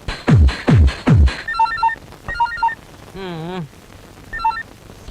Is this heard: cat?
no